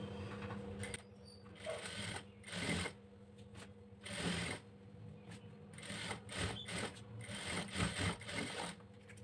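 A sewing machine stitching a blouse lining runs in short bursts of mechanical whirring and clatter, stopping and starting several times, close and steady with no talk.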